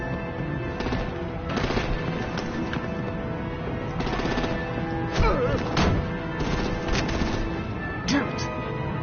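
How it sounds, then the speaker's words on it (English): Video game battle gunfire and artillery, with rapid machine-gun bursts and several heavier blasts across a steady, dense din, and voices speaking over the firefight. "Break out the artillery and disable their vehicles!"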